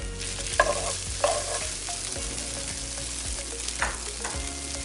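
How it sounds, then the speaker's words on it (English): Sausage sizzles in a hot pan with onion and garlic for a Grenadian meat loaf pastry filling, a soft continuous frying hiss broken by a few scraping stirs of a utensil against the pan. "Then I'm just going to go in with the sausage."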